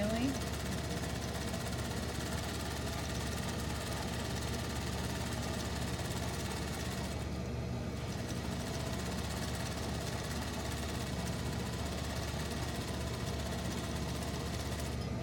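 Sewing machine running steadily as it stitches the first gathering row of a ruffle for a waistband, a continuous mechanical whir for the whole stretch, close and fairly loud.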